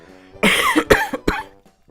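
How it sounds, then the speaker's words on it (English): A close, loud cough in a few sharp bursts, followed by quiet. "Pardon me a moment, I have to cough."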